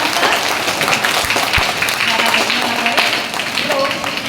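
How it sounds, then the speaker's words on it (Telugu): Audience applause at a Bal Sanskar Kendra closing ceremony held by VHP Matrushakti in Nakrekal, a steady dense patter of many hands clapping that holds for the whole stretch, with crowd noise mixed in. "చప్పట్లు కొట్టండి"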